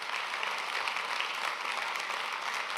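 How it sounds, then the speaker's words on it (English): Steady applause from an audience fills the room, even and continuous, at the close of an evening community event. "a round of applause to all of our participants"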